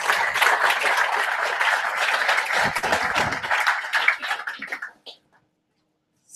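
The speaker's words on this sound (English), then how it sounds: "Please give him a round of applause." Dense audience applause at a retail conference, sustained clapping for about four seconds that thins out and stops abruptly, leaving near silence.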